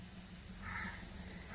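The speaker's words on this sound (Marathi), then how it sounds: "तडका मारूया." Cumin seeds sizzle in hot oil as a tempering for peanut chutney, a soft, steady hiss throughout with a faint low hum beneath.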